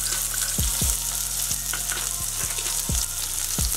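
Chopped onion, green chilli and cumin sauté in hot oil with a steady loud sizzle, while a spoon scrapes and taps against the pan every so often. No one speaks.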